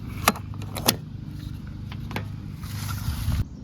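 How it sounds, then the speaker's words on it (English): A gas cap being screwed onto a Toyota 4Runner: a few sharp clicks and plastic ratcheting taps spaced over several seconds, close up, over low engine or vehicle background noise. "Screw the gas cap."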